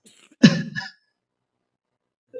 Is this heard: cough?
yes